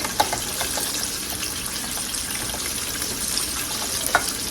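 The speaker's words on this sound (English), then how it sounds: "I take my cornbread, stir it up really, really good" Cornbread batter being stirred with egg mixed in, a steady wet swishing and sizzling texture with small clicks, constant and fairly close, no talking.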